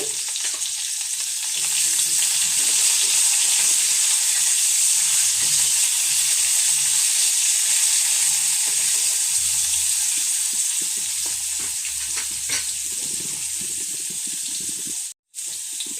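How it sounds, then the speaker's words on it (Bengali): Drumstick (moringa) pieces fry in oil in a wok, with a loud, steady crackling sizzle, light stirring noises and a brief break near the end, all close up with no talking. "সেই তেলের মধ্যে আমি সজনে ডাঁটাগুলি দিয়ে দিচ্ছি। এগুলি একটু ভেজে নেব।"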